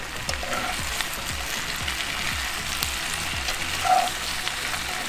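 Tomatoes and fajita meat of steak and chicken sizzling on a Weber grill, a soft steady frying hiss with faint crackles and a few stirring scrapes, no talk.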